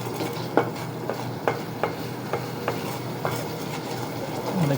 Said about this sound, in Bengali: হলুদের গুঁড়া মিক্সড করে নিচ্ছি